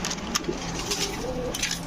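Large pigeons coo softly in the background amid faint rustling and a few small knocks, with no talking.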